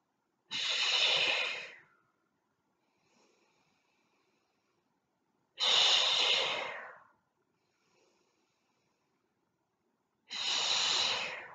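Three strong, forceful breaths out during a stretching exercise, each lasting about a second and a half and spaced several seconds apart, with faint inhales between them and quiet surroundings.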